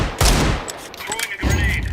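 Decoy grenade in Counter-Strike 2 imitating gunfire: a couple of loud, sharp bursts of shots separated by a short pause, close and punchy.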